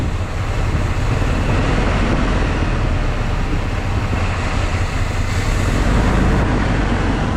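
A 2001 Dodge truck engine idles roughly, a loud, steady, broadband rumble and hiss that holds without a break, with no voices over it.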